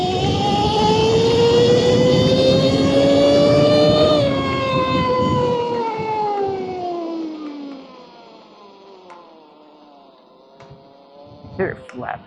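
Fly E-Bikes electric street bike accelerating hard in sport mode: a loud, rising electric motor whine with stacked tones climbing in pitch for about four seconds, then easing off and fading into quieter road and wind noise.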